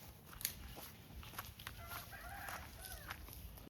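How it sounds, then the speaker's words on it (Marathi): A chicken on a village path clucks faintly in short bursts at some distance, over a soft outdoor rural background with no voices. "जाता जाता रस्त्यात एक ही कोंबडी दिसली."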